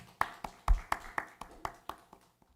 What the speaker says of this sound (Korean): 함께 하나님께 찬양과 영광의 박수 올려드리도록 하겠습니다.